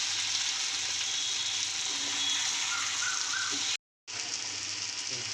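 An egg pepper fry sizzles in a pan after being flipped, a steady, close crackling hiss that continues unbroken except for a brief cut near the end.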